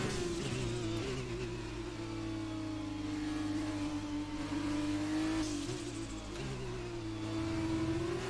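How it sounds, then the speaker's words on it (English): F1 2020 Formula 2 race car, its engine howling close and loud with pitch swells as the rear wheels spin and it accelerates, alone without talk. "Oh, a bit too much wheel spin"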